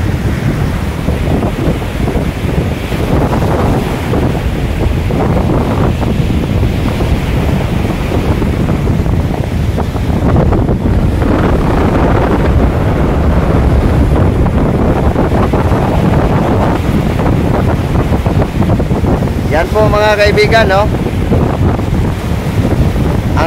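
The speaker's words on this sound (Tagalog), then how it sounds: "Ang lakas ng hangin at saka hampas ng mga alon sa dalampasigan na ito." Strong wind and surf crash on a beach at a seaside resort, a steady loud roar of gusts buffeting the microphone with waves breaking throughout; someone speaks briefly over it near the end.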